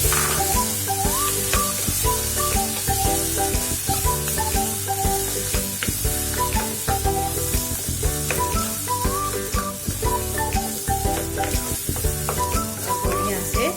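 Roasted peas sizzle and fry in a pan of mutter dal, a loud steady crackling hiss broken by repeated rhythmic scraping and stirring strokes, with no voices.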